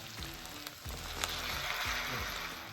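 Pheasant added to a pan of softened onions, sizzling and frying steadily at a low level, with scraping and stirring clatter from a utensil over the crackle; no talking.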